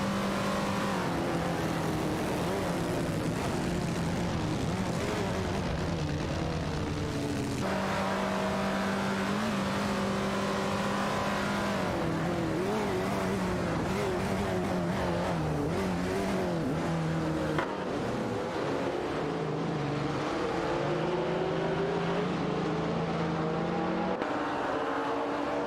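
Race cars in a video game roar continuously, engines revving and shifting up and down through gears, with occasional tire squeal as they battle for position, loud and sustained throughout.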